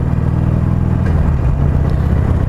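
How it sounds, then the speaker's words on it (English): A Harley-Davidson Iron 883 motorcycle with a Stage 1 ECM flash runs steadily up close, its deep, throaty exhaust note rumbling and pulsing without pause. "There's a definite difference in the exhaust note. It sounds throatier."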